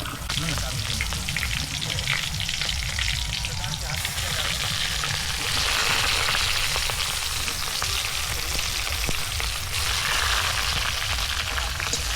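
Meat fries in a pan for kosha at an outdoor picnic, a loud, steady sputtering sizzle with occasional stirring scrapes that runs throughout at close range.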